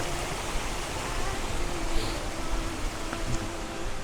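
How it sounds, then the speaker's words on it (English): A waterfall at Glendalough in County Wicklow, Ireland, rushes steadily as a broad, even hiss of falling water, constant and fairly close, with no voices. "There's like a lovely waterfall there."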